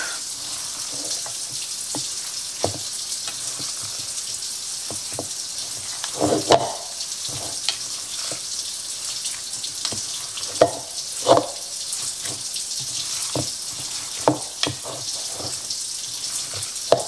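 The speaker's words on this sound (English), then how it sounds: "Just want to make sure you get all this incorporated, all the breadcrumbs, the cheese, the salt, the pepper, the peppers, the onions, the eggs." Hands squish and mix meatloaf with breadcrumbs, cheese, salt, pepper, peppers, onions and eggs, giving a continuous wet, sticky kneading texture with scattered soft slaps and no talk.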